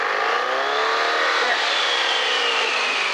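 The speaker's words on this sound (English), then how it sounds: "This one, Detroit diesel engine. It's on the quiet mode at the moment." Detroit diesel engine on a vintage vehicle at a rally, running in quiet mode with its top exhaust fitted, a steady loud drone close by with no gaps.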